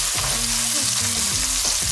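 Two onions sizzle and crackle in hot olive oil in a pan over high heat, a loud, continuous frying hiss with faint stirring and no voices.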